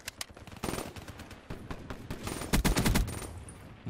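Rapid video-game gunfire rattles in repeated bursts, sharp clustered shots at moderate level that grow heavier and louder toward the end, with no speech over them.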